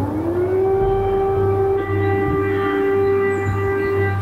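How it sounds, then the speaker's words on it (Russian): An air raid siren wailing during a wartime alert in Ukraine, a loud sustained tone that rises at the start and then holds steady. "Воздушная тревога звучит в большинстве областях страны."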